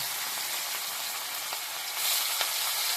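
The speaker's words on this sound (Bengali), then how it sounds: "কড়াই বসিয়ে সাদা তেল দিয়েছি, কড়াইতে তেল গরম হয়ে গেছে, মাছ ছেড়ে দিলাম" Fish frying in hot white oil in a wok, a dense, even crackling sizzle heard close and alone, swelling slightly louder partway through.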